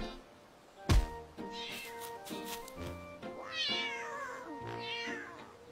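A cat meows several times in a row, clear and close, with drawn-out, rising and falling cries following a sharp opening sound.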